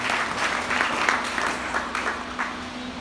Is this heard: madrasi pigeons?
no